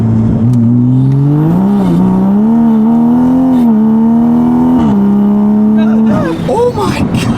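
A loud car engine accelerates with rising revs while the tires slide, ending in a burst of chatter and shouting near the end.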